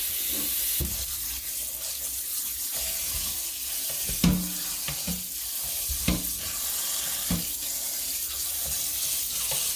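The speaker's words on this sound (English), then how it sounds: "Now I'm just going to give it a quick rinse with cold water" Cold tap water runs steadily over blanched shredded potatoes in a colander, a continuous hiss and splash with a few brief clatters and knocks, fairly close and with no talk.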